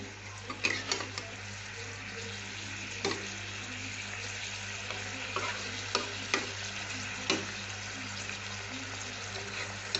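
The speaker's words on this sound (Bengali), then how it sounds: "একটু জলটা দিয়ে আর একটু কষি, তাহলে সব মশলাগুলো ওর ভেতরে ঢুকবে।" Spiced potato and pointed gourd curry with fried fritters sizzles softly in a pan after a splash of water, with faint intermittent scrapes and clicks of a spoon stirring, quiet and close.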